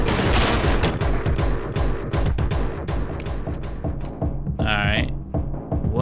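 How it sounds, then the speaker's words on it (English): Loud rapid gunshots from fast first-person action in Anger Foot, sharp cracks in quick bursts, then a brief electronic whine near the end. "Bro, stop shooting."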